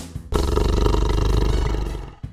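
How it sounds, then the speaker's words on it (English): A tiger gives one loud, rough, sustained roar at close range, lasting about two seconds and heard on its own. "A tiger makes a grr sound."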